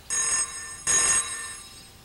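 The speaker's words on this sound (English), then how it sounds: "someone's calling on the picture phone." A picture phone rings twice, two short bright electronic rings separated by a brief pause, clear and alone.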